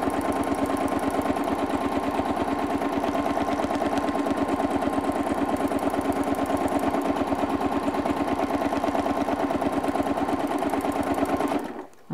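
A sewing machine doing free motion quilting, stitching straight lines across previously sewn lines, runs in a fast, steady, loud needle-pounding rhythm for nearly the whole stretch before stopping abruptly at the end.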